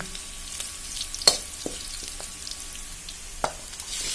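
Onion, bay leaf, green chillies and dried chillies frying in a kadai, a soft steady sizzle broken by a few sharp clicks and scrapes of a utensil against the pan.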